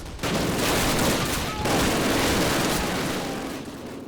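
Call of Duty gunfire, a loud continuous barrage of battlefield shots and blasts close up, with no break in the din.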